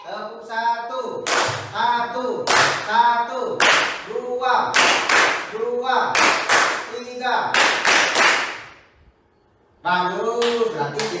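A classroom of students claps together in a counted rhythm during an Indonesian lesson warm-up, each burst of sharp claps joined by voices chanting the count aloud, with a short pause before the final round.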